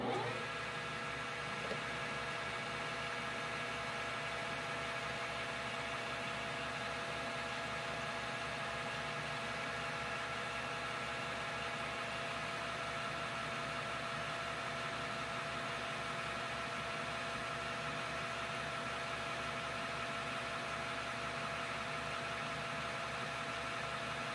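A lathe takes a fine one-thousandth-inch cut with a diamond tool holder at 1,255 RPM, giving a steady, quiet motor hum with a faint high whine that holds even and unbroken throughout.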